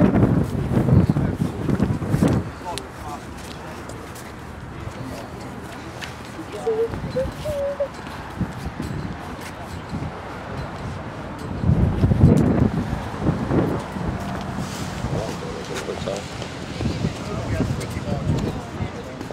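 Wind gusting hard into the microphone on the water, heavy buffeting in bursts near the start and again around the middle, with people talking intermittently over it.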